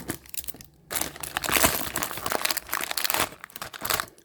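A Temu advent calendar package is torn open, its plastic wrapping crinkling and crackling loudly and continuously up close for several seconds, with no talking.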